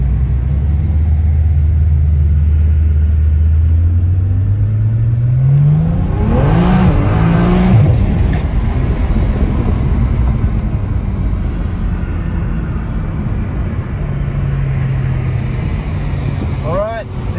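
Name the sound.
tuned cars accelerating in a 17T versus 19T race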